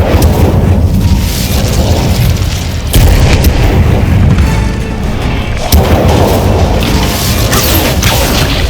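A fire spell cast in Hogwarts Legacy on Xbox Series S: dense, loud roaring and booming with crackling bursts, continuous throughout with a few sharper hits.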